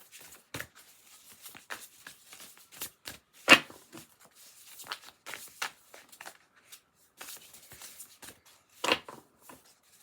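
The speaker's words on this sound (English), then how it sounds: "Seeing a lot of 6 energy as I'm shuffling" Tarot cards are shuffled by hand, with a close series of sharp riffling and slapping bursts at irregular intervals separated by near silence, and no voices.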